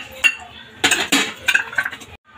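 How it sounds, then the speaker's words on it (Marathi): A metal tempering pan is set down on a stove, giving a few sharp clanks and metallic scrapes in quick succession, close and fairly loud, then a brief silence. "प्रथम त्यावर फोडणी पात्र ठेवून घेऊया, त्यामध्ये तेल टाकून"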